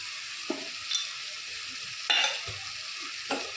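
Ingredients fry in a pan with a soft, steady sizzle while a spoon stirs and knocks against the pan in a few sharp scrapes and taps.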